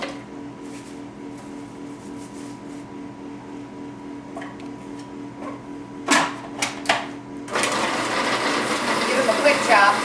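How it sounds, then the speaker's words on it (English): Food processor chopping meatball ingredients, starting with a few short pulsed bursts and then running steadily into a loud whirring grind. "we're going to put them in the food processor"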